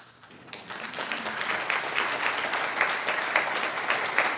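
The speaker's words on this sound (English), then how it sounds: "I was not expecting applause for that." Audience at an academic child sexual abuse conference breaking into applause, building within the first half second into a steady, dense clapping that continues fairly loud to the end, with no talk over it.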